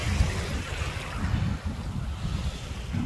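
Sea waves wash ashore on a snowy winter beach by the dunes at Anapa, a continuous rushing surf with wind buffeting the microphone, fairly close and steady.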